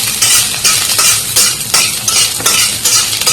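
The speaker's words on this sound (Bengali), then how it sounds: "আমি এক গোটা রসুনের কোয়া রেখে রেখেছি পরিষ্কার করে, এখন এটা একটু বেটে নেব।" Garlic cloves being ground by hand for a pumpkin-leaf bhorta, a steady scraping, grinding rhythm of strokes repeating about every half second, loud and close with no talking.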